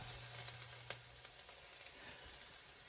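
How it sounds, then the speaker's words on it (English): Garlic sizzles in a hot pan for a casserole, a steady close frying hiss with a few light clicks and stirs, no talking. "I'm going to add my garlic and probably cook my garlic maybe a minute"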